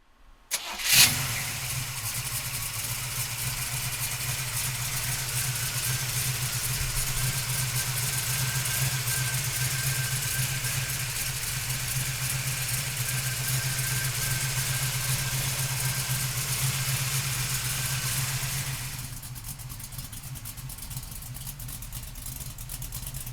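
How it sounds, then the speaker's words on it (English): A 1968 Chevrolet Camaro big block engine cranks and fires with a sharp burst, then settles into a loud, steady, rumbling idle close by for a long stretch before the level drops slightly near the end, with no talking. "So come on up, we'll fire it up for you right now."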